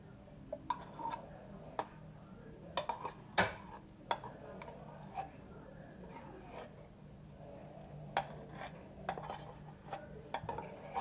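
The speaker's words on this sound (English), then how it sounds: "And then you're just going to mix it up, and okay, on high heat you're just going to mix all of the sauce" Lasagna meat sauce with tomato paste is stirred in a pan over high heat, a faint low sizzle broken by scattered light clinks and scrapes of a utensil against the pan.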